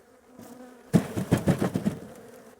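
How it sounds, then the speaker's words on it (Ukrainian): Honeybees burst into loud, close buzzing as a hive frame covered in bees is shaken, the drone pulsing in quick surges after a quiet start. "Ось тут рамочку цю я зараз тряхну з бджолою"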